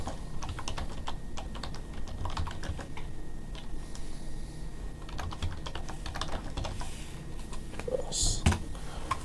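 Keys clatter on a computer keyboard as page content is typed into a Shopify store editor: quick, irregular clicks in short bursts over a low, steady room hum, moderately close and fairly quiet.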